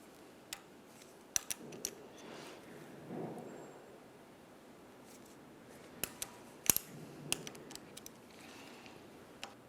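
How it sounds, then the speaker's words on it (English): A 17mm ratcheting wrench clicks in short, irregular bursts while tightening the nut on a strut mount of a 1997-2003 Pontiac Vibe, with quiet, close ticks separated by pauses. "We'll use the Allen head socket to hold the shaft still while we tighten our 17mm nut."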